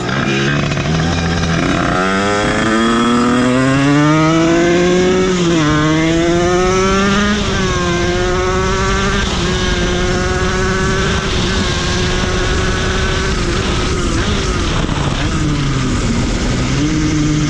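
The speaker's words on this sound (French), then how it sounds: "Comme vous pouvez le voir, la moto marche." A small 1986 Derbi 50cc motorcycle engine, running slightly rich, runs loud and close, its buzzing pitch rising and falling as it revs, then settling into a steady idle.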